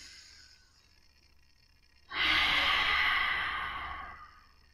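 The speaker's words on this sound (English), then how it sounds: "Starting to take deep breaths in through the belly and out through the mouth." A deep breath during an easy-day breathing practice, drawn in through the belly and released through the mouth as a long, loud, close exhale lasting about two seconds after a quiet stretch, with no talking.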